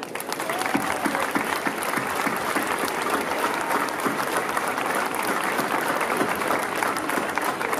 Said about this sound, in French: Et eux aussi méritent vos applaudissements